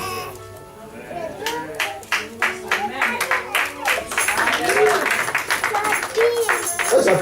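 Hands clap in a quick, steady rhythm at a church service, close and sharp, with talking and crowd voices mixed in underneath.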